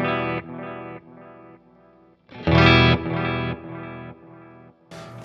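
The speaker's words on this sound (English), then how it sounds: "Here's a little bit of reverb from the Flint." Electric guitar through a Suhr Bella amp with reverb from a Flint pedal, played as a series of sustained chords with a louder strum midway, moderately loud with a soft tail, no voices.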